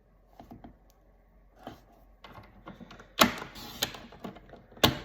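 Designer Series paper is cut on a paper trimmer: soft handling clicks and shuffles build to two sharp, loud slicing snaps of the blade a second and a half apart, close by, without speech.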